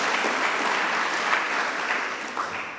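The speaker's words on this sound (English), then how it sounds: "I think we should all clap for that." An audience applauds steadily at a broadband award presentation, a dense, continuous clapping that holds evenly and tapers slightly at the end.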